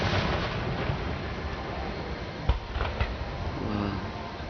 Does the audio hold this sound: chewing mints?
no